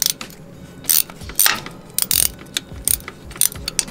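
A 17 mm wrench clicks and ratchets on the quick-release screw of a Stage6 PWK racing carburetor on a Honda 88cc engine, a series of close, sharp metallic ticks and small clanks in an irregular rhythm.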